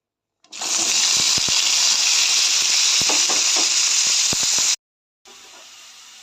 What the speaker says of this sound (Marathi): आता ह्या तेलामध्ये कांदा टोमॅटो आणि लसूण चांगलं परतून घेऊया